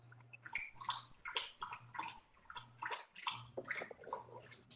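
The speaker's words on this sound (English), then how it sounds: "I hear a little puppy drinking water." A Boston Terrier puppy laps water in quick, rhythmic wet slurps, about eight to ten close, soft bursts with a faint low hum in the background.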